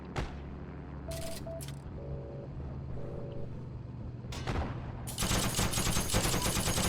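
Video game gunfire in Heroes & Generals: a couple of isolated shots, then a sustained burst of rapid automatic fire over a low engine-like rumble.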